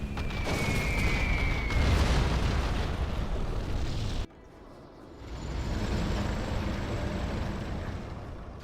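Artillery fire and carpet bombing rumble across a C&C Generals Zero Hour battlefield, a dense sustained roar of overlapping blasts that cuts off abruptly midway, then swells back into continued heavy explosive rumbling.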